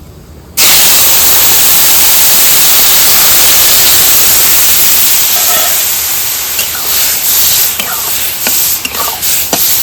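Grated ginger and turmeric poured into a hot pan for chholar dal burst into a loud sudden sizzle that hisses steadily, then softens slightly with light clinks toward the end.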